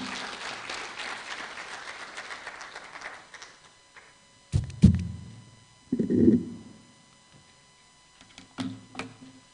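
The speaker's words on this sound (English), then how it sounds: "A round of applause, tafadhali." At a women's project launch, audience applause rises and then dies away over about four seconds, followed by scattered thumps and knocks, like handling noise near the microphone.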